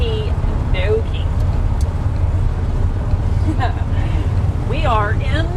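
A 1953 White WC truck driving, a steady loud low engine and road rumble throughout, with brief bits of chatter and whistling over the top.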